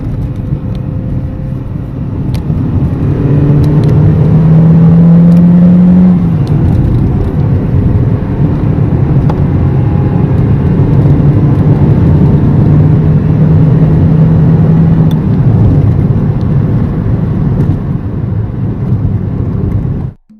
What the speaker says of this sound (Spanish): Vamos a reducir una velocidad, a meter segunda, hacer una pequeñita estirada aprovechando que está el motor caliente aquí delante.